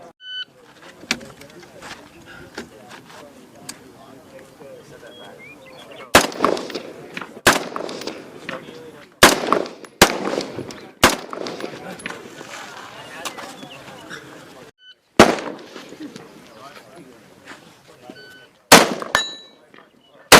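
Sharp gunshots crack out one by one at irregular intervals during a U.S. Marine shooting drill, loud and close, with a few heavier reports among them over a constant background murmur of voices and outdoor activity.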